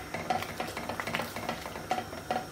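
Baobab pulp and seeds are stirred together for juice, giving a close, steady run of soft wet scraping and swishing strokes in a quick rhythm with no one talking.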